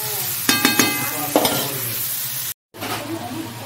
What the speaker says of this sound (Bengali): ফুলকপি, আলু, টমেটো, কড়াইশুঁটি দিয়ে মাছের তরকারি বানাচ্ছে